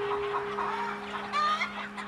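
Chickens clucking steadily inside a poultry farm shed, a dense flock heard close and continuous over a low steady mechanical hum.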